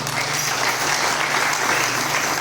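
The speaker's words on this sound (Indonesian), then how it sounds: "Ya, sekali lagi kita beri tepuk tangan." A church congregation applauds at an anniversary celebration of GBI Sola Gratia in Jayapura: dense, even clapping from a crowd at a steady level under a faint hum, without pause.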